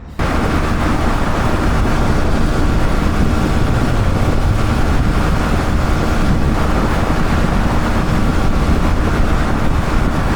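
A loud, steady engine roars continuously under heavy wind rush, like a vehicle under way at speed, with no voices.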